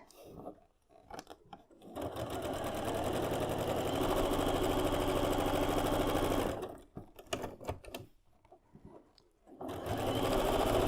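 Sewing machine stitching a quilt block in two long steady runs of rapid whirring, close and loud, separated by short pauses filled with fabric handling.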